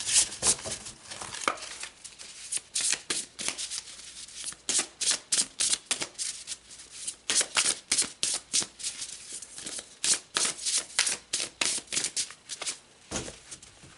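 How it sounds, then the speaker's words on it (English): Oracle cards are shuffled and pulled by hand, a long run of close, crisp riffling bursts in a steady rhythm that continues throughout. "All right, let's pull some more cards."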